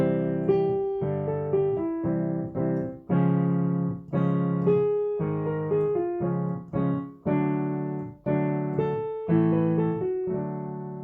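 Piano accompaniment for a choir warm-up: a steady sequence of struck block chords moving through a transition, each decaying before the next, with occasional brief pauses, played solo and close without any singing or talk.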